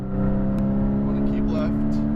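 A race car on a Las Vegas track accelerates hard down the straightaway, its engine a steady, loud, close drone held at high revs throughout, with an instructor's voice running over it.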